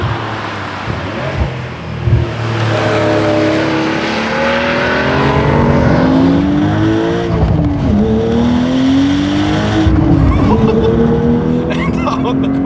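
A manual Porsche 911 with 500 hp downshifts into a corner, the engine blipping and rising in sweeping revs that climb and fall, loud and close from the cabin, while someone talks over it.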